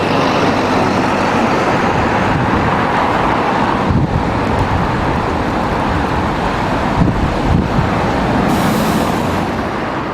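An Omni-City bus working London Route 320 rumbles past amid steady roadside traffic, its broadband engine and road noise loud and continuous, buffeted by wind on the microphone.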